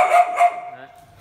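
Phu Quoc brindle dog barking, one short echoing bark followed by a ringing tail that fades out over about a second.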